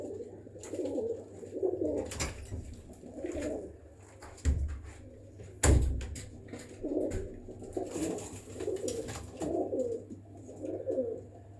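Pigeons of a MeraDona breed coo repeatedly in soft, rolling bursts, fairly close, with a couple of brief knocks and steady low background hum.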